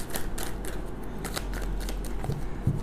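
Tarot cards being shuffled by hand in one continuous session, a steady run of soft papery riffles and flicks close up, with no talking.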